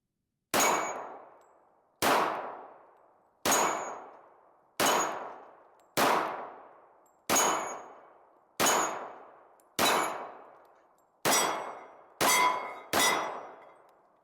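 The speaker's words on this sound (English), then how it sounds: "My dueling tree. It doesn't ding as loud, but it's fun to shoot on nonetheless." A Springfield Emissary 1911 in .45 ACP firing at a steel dueling tree target, eleven sharp metallic clangs with ringing decays, evenly spaced at first, the last few coming quicker, with no talk.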